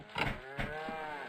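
Two drawn-out cow moos from livestock in the survival video game Survivalcraft 2, close and fairly loud, each a low bellow fading into a tonal tail, with no talking.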